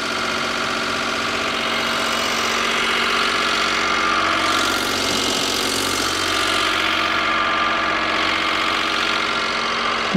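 A cogeneration engine coupled to an electrical generator runs steadily just after startup, a loud continuous mid-pitched idle with a rough knocking edge and exhaust roar, alone with no talk.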